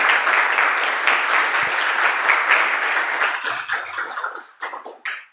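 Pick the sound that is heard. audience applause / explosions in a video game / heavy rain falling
audience applause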